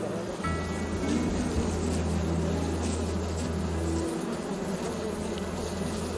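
Honey bees buzz at a farm hive in autumn, a steady, dense droning hum that holds continuously and fairly close without pauses.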